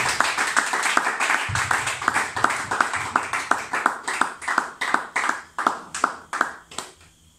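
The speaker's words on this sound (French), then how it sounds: "On acclame le Seigneur Jésus." A church congregation claps together in a steady, rhythmic beat to acclaim the Lord Jesus, a long run of loud, evenly spaced claps that taper off at the end with no talk over them.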